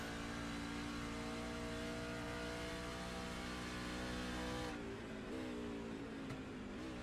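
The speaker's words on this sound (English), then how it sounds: "you can definitely hear him feathering that throttle" Race car engine in iRacing at Watkins Glen, held at steady high revs with small throttle modulations, then easing off and rolling back on near the end, loud and alone.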